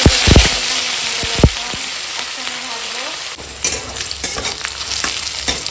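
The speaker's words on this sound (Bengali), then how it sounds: "তেল গরম হয়ে গেছে দিয়ে দিলাম তেজপাতা পাঁচ ফোড়ন" Bay leaf and panch phoron hit hot oil with a loud burst of sizzling and crackling, settling into a steady hiss with scattered pops, close up.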